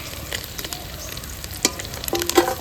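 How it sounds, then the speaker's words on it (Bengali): Small mourala fish fry in a pan with a constant crackling sizzle, punctuated by sharp clinks and scrapes of a spatula against the pan, close and without speech. "তো একবার ভাজা হয়ে গেছে, এবার বাকিগুলো ভেজে নেবো"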